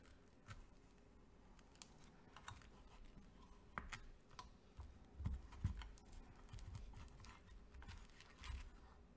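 A knife pressing through a small block of soap from a layered soap making kit, producing scattered soft clicks, taps and dull scraping thuds at close range, with a few louder knocks midway.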